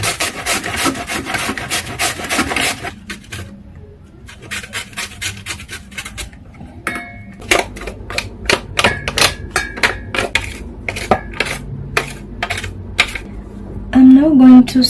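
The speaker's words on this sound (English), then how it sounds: "I'm going to use this coarse part of my grater, the larger coarse part, to grate them in to my bowl" Raw potatoes rasped against the coarse side of a hand grater into a bowl: loud, rhythmic scraping strokes in quick runs, broken by short pauses.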